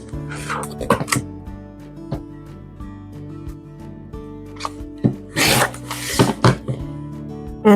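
Sewn quilt fabric is cut apart into triangle squares, with scattered short snips and rasping cuts, then a denser cluster of cutting strokes close by over a faint humming background.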